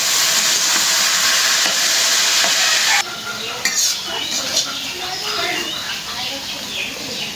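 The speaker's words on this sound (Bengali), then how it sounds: "এখন দিব ভাজা এটা আলু ভাজা" Potatoes fry in a pan with a strong, even sizzle that drops in level partway, then turns into stirring scrapes and sputters with a little talk in the background.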